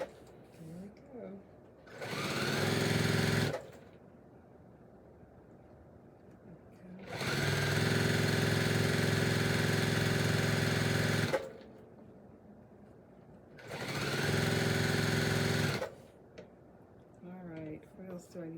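A sewing machine stitching pieces of a Churn Dash quilt top runs in three long whirring bursts, separated by quiet pauses with some low speech in between.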